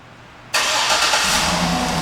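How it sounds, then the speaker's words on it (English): A 2008 GMC Yukon XL Denali AWD starts by remote start: a sudden loud catch from near silence that settles into a steady, even engine idle, heard alone with no talking. "And the car turns right on."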